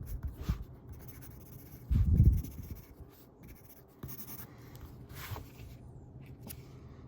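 A Faber-Castell Perfect Pencil scratching across paper up close, soft intermittent strokes with one louder burst of scribbling, quiet and without speech.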